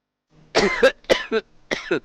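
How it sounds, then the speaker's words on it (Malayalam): A person coughs in three quick, close, harsh bursts, each with a double hack, in an otherwise quiet room. "എന്ത് പറ്റിയ ഇപ്പൊ വല്ലാത്തൊരു ചുമ?"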